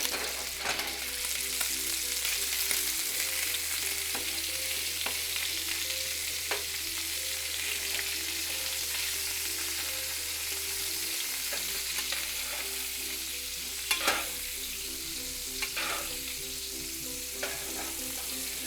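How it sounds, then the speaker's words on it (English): Steady, crackling sizzle of butter in a hot pan while basting vegan meatballs, with occasional scrapes and spoon clinks over a low hum throughout. "Sizzling goodness."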